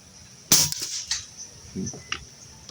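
An airgun fitted with an NB20 barrel fires a single sharp, close crack, tested outdoors in windy conditions, followed by faint rustling and a few small clicks.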